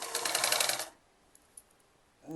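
A sewing machine stitches a back stitch on a kurti in a short, fast, rattling burst under a second, then falls quiet before starting again briefly at the end.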